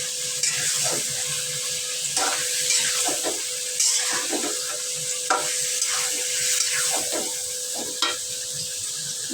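Bitter gourd fries in a pan, giving a steady bright sizzle while a utensil stirs it in repeated scraping bursts, heard close with no talk.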